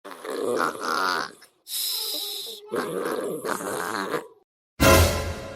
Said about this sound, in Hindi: कितने जोर के खर्राटे तो कुंभकर्ण भी ना लेता होगा, जितने जोर के खर्राटे मेरी बहू ले रही है